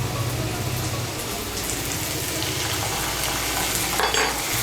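Gourd stalks fry in a pan as ginger and green chili paste is stirred in, giving a dense, steady sizzle with soft scraping from the spoon throughout; close and continuous, no voices.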